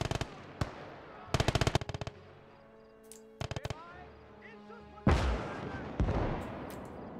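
Machine gun fire in the Company of Heroes Valor mod, a World War II strategy game: short loud staccato bursts repeat over several seconds, ending in heavier explosive blasts, with someone talking in between.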